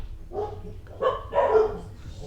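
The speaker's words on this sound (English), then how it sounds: "Excuse my barking dogs." Dogs bark in the background of an indoor fly-tying session. There are three short, separate bursts at moderate distance, fairly faint and with no talk over them.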